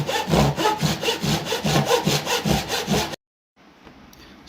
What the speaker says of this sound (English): I'm using a Japanese pull saw because it does the job I need it to do.